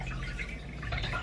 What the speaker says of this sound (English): So I'm going to go ahead and pour my stock.